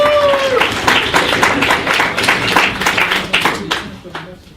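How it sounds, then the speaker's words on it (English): An audience at a burner-community conference session breaks into sustained applause, dense clapping from many hands that swells and then tapers off at the end. A voice is briefly heard at the start. "join me in giving a thunderous applause to our next session presenter"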